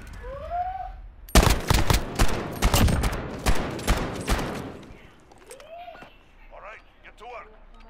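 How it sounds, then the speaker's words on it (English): Shotgun and handgun fire in a gunfight video game: a loud, dense burst of rapid shots lasting a few seconds, with a voice speaking briefly before and after the volley. "Shotgun and handgun."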